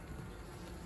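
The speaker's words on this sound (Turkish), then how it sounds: "Arılar gayet güzel." Dense, steady buzzing of many honeybees packed close together inside an open hive in early April, a continuous low hum with no pauses.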